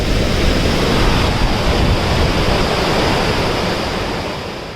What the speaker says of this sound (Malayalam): ഇങ്ങനെ ഒഴുകിയിട്ട് അങ്ങോട്ടേക്ക് പോകുന്നുണ്ട് വെള്ളം.